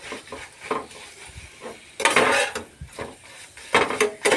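A paratha fries in oil in a pan while it is turned, with bursts of utensil scraping and clattering over a soft sizzle. No voices are heard.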